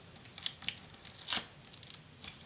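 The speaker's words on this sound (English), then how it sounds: "Now peel this off" Backing paper being peeled off an adhesive sheet at a scrapbooking craft table, a few short, soft tearing and crackling strips, quiet and close, with no talk.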